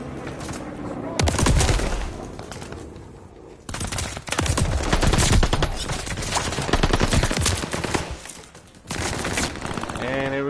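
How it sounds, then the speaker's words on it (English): Rapid gunfire from a Call of Duty Vanguard multiplayer match, including shotgun blasts, comes in dense, loud bursts with brief pauses, mixed with other in-game battle sounds. "The shotguns again."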